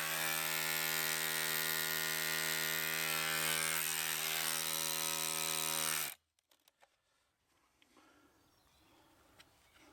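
A small, low-powered drill grinds against an old hard concrete wall with a steady, loud whining motor tone for about six seconds, then cuts off, leaving near silence with faint scattered clicks.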